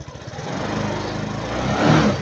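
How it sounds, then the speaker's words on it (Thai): A Suzuki Jelato motorcycle engine that has trouble starting, close up, rising from idle into a rev and settling back, a steady buzzing drone that swells in loudness toward the end. "ลองเร่งเครื่องแล้วก็ผ่อนลง"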